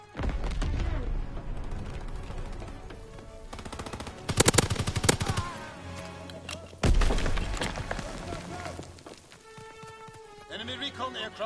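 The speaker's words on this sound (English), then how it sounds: "Enemy strafing run incoming." Enemy fighter plane strafing run in Call of Duty WWII, with rapid machine-gun fire raking the ground in loud, dense bursts, heavy impacts around four and seven seconds, and battlefield noise continuing beneath occasional voices.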